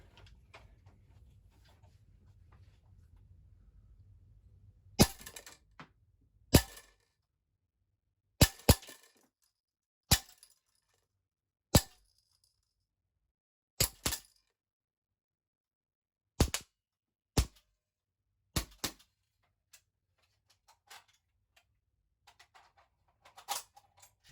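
An FN M4 carbine fires single semi-automatic shots from about five meters away: roughly ten sharp, loud cracks, irregularly spaced over about twenty seconds, with quiet gaps between them.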